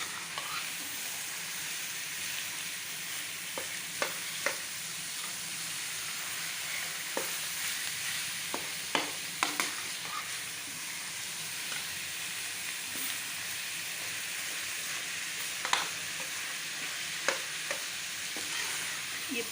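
Finely minced qeema, machine-ground, fries in a pot with a constant soft sizzle and steamy hiss, broken by scattered light scrapes and taps of a spoon stirring, moderately quiet and close.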